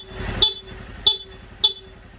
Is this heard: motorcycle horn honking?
yes